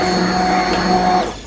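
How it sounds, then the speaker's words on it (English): An immersion blender whirs in a pot of broccoli, turnip and potato soup, a loud steady motor drone for about a second before it cuts off and spins down. "this is soft enough for the immersion blender. And just pulse it a few times"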